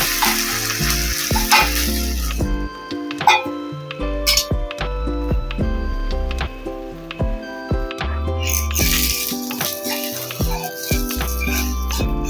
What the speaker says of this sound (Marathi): आता याला जरा कांद्याला ना दोन्ही साईडून मी भाजते, कारण जरा क्रिस्पी राहण्यासाठी